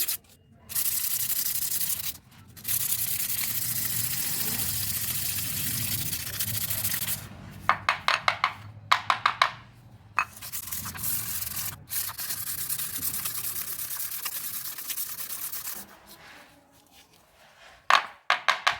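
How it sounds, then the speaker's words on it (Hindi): Abrasive scraping of 400-grit sandpaper on car brake pads during a front disc brake service, a steady rubbing stroke that runs continuously with brief pauses and a few sharper scuffs toward the end. "सैंडिंग करने के लिए मैं यहाँ पर यूज़ कर रहा हूँ 400 ग्रेड का सैंड पेपर"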